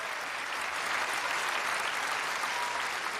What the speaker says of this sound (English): That's a lot of applause in the left ear